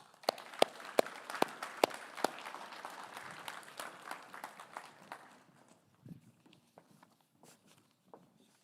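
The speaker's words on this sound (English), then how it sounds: "Show her a round of applause." Scattered applause at a school awards ceremony for a swimming champion, a handful of sharp distinct claps that thin out and fade to sparse isolated claps by the end.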